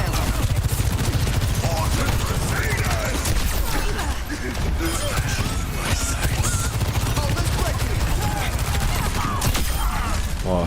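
Valorant gunfire crackles loud and close in dense, continuous volleys of rapid shots, mixed with game effects and a voice talking throughout.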